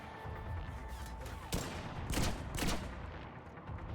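Gunfire in the video game Mass Effect 3, a few quiet, distant bursts of shots amid combat noise, soft and somewhat muffled rather than close and sharp.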